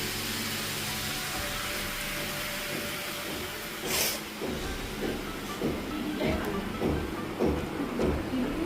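Potatoes, jackfruit and onion frying with spices in a pan, a continuous broad sizzle with scattered stirring clinks and scrapes building toward the end.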